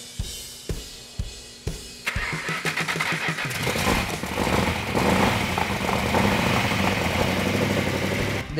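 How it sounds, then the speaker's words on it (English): A 446 engine with some distributor and timing trouble cranks with a few slow starter turns, then catches and fires up, settling into a loud, steady, rough idle close by. "The 446 back engine fired right up"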